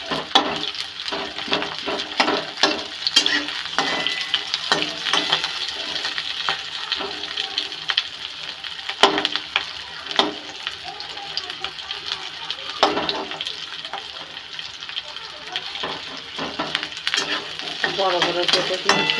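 Chopped carrots and cabbage fry in oil in a pan for wheat-flour pasta, a steady sizzle with repeated scraping stirs and utensil clinks, continuing beneath occasional talk.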